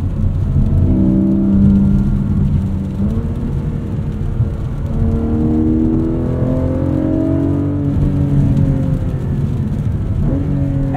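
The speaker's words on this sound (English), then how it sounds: "This sounds like a Porsche should sound." A 2024 Porsche 718 Cayman GTS 4.0 with its flat-six engine accelerating, the revs climbing and falling through several gear changes, loud and close from inside the car with a steady whirring drone beneath.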